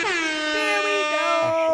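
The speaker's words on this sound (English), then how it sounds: "Hit him with the DJ air horn." A loud, blaring DJ air horn sound effect rings out close and steady for nearly two seconds.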